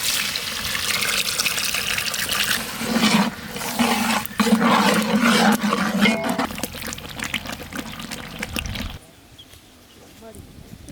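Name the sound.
tamarind water poured into frying masala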